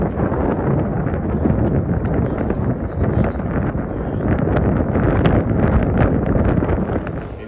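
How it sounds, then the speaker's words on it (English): Strong wind buffets the microphone outdoors at Niagara Falls near the boat tour observation area, a loud, continuous roaring gust with constant rustling and no pauses. "Definitely a little windy out."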